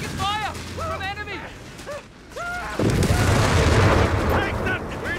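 Battle sounds from the World War II strategy game Company of Heroes 3: bursts of gunfire and booming explosions, growing denser and louder partway through, with shouted voices heard over the early part.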